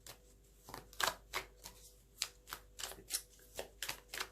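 Oracle cards shuffled for a card reading: a steady series of soft, riffling bursts, each a brief papery flutter, heard close and alone at low volume.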